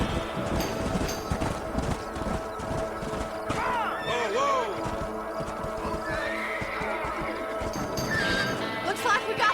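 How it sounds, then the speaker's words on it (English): Horses in the Red Dead Redemption video game whinny repeatedly over a busy clatter of galloping hooves, with near and farther neighs overlapping throughout. "What magnificent animals they are. Yeah, it's like they're horses."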